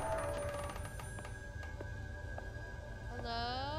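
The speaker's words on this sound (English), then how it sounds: "I hear the phone ringing." Telephone ringing in the video game Maid of Sker, a faint repeated bell-like ring heard at a distance over a low rumbling ambience.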